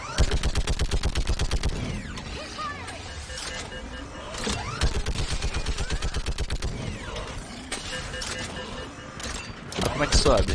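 Rapid gunfire bursts from Mass Effect 3 Legendary Edition, loud repeated shots in quick strings near the start and end, with game sound effects and people talking throughout.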